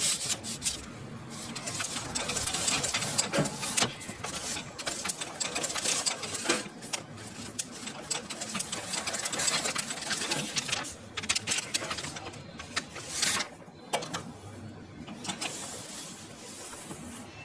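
A sewing machine stitches paper during tailoring practice, running in close mechanical bursts with short pauses between runs.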